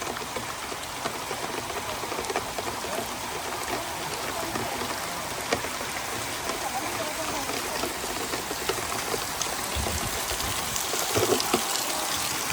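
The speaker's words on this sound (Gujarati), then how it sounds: "જબર વરસાદ જમ્યો." Heavy rain pours down steadily in a village, a dense continuous hiss of drops striking surfaces close by, with faint murmurs of people in the background.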